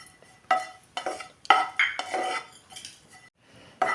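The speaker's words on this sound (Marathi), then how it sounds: "आता हे खोबरं आपण भाजून घेऊया" Grated coconut dry-roasting in a pan, stirred with a metal spoon: scraping strokes and clinks in short bursts, close, with brief pauses.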